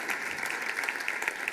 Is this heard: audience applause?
yes